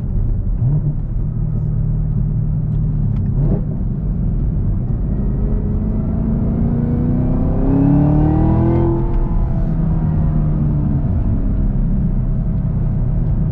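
A Camaro ZL1's engine rumbles and revs up as it accelerates on a backroad, Michelin tires humming and gripping the road, steady and close with no voices.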